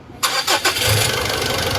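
A 2011 Mitsubishi Pajero Sport 4WD engine cranks with a few quick pulses, catches, and settles into a steady, rumbling diesel idle close by.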